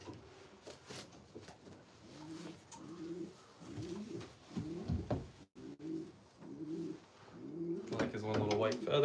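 Pigeons in a racing loft coo softly in repeated low, throbbing phrases, with someone talking over them and wingflaps and shuffling nearby.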